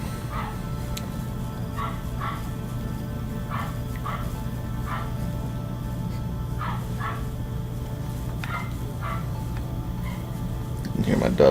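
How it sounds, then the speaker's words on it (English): A pet dog barks in short, spaced bursts of a few yips at a time, faint and distant in the background behind a steady low hum. "You can hear my dog barking probably in the background."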